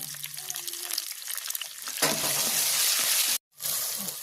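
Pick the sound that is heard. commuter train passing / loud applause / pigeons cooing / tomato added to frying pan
tomato added to frying pan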